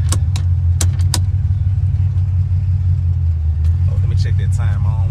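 A Camaro engine idles with a loud, steady low rumble throughout, joined by a few sharp clicks early on and a brief burst of speech near the end.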